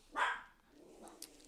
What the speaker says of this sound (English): And excuse the dogs in the background.